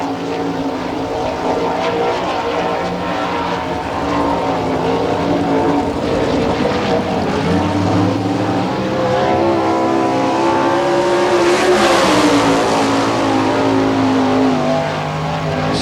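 Tim Kern's No. 28K winged sprint car rumbles out onto the Hartford, Ohio dirt oval at an All Star Circuit of Champions Speedweek race, its loud, steady engine drone holding throughout and swelling briefly near the end.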